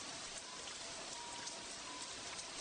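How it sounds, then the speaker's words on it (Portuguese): Steady rain falls in a dense, even hiss of countless drops striking a surface, close and continuous with scattered louder droplet taps and no voices. "Está realmente chovendo agora."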